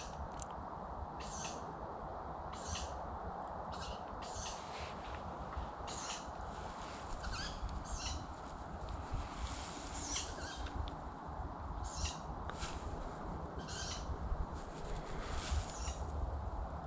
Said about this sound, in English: We've got some birds calling each other.